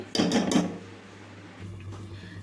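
A metal pot lid is lifted off a pot of cooking tomato paste for a fish curry. It makes a short clatter of a few quick knocks up close, then quiet kitchen background follows.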